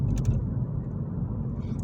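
Inside a Mini car cruising at 30 mph, a low, steady road rumble and engine hum, fairly quiet and even throughout, with no talk.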